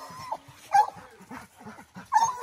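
Mountain Cur hunting dogs on a coon hunt give short, sharp barks and yips in quick bursts, fairly close by.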